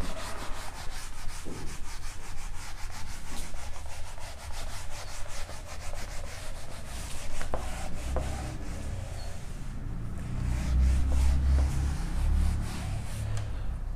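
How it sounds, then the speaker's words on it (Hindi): Steady dry rubbing of an eraser or duster wiping a classroom board during an optics lecture, continuous scraping strokes that grow a little heavier toward the end, with no talk. "तो पहले रब करते हैं इसको।"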